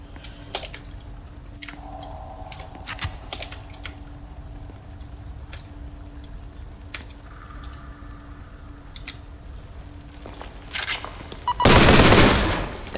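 Gunfire aimed at a turret in Roblox Arsenal: scattered sharp game shots and clicks over a steady hum, ending in a loud dense burst of firing near the end.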